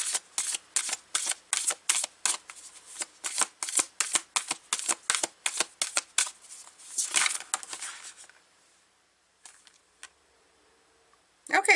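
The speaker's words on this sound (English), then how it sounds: "I'm going to shuffle to see what comes out." A tarot deck being shuffled by hand, a rapid run of crisp riffling card flutters for about eight seconds, then a few isolated taps and flicks in near silence, close to the mic.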